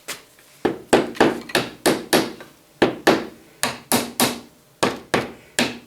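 A dead blow hammer taps a wooden dowel in a steady series of about fifteen sharp, close knocks, each with a short decay, with no talking.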